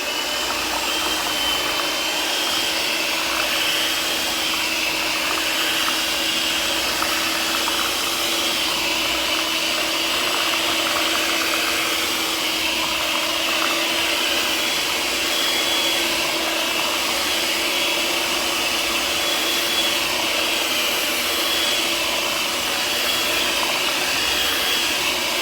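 An electric mixer whirs steadily and loudly, blending sweet potato pie filling with butter in one unbroken, even motor drone.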